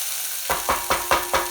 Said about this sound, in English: Then I'm going to put in the steamed corn.